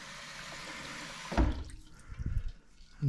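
Cold tap water gushes into a pot holding eggs for hard-boiling, a steady rushing stream that cuts off and gives way to a few sloshes and drips.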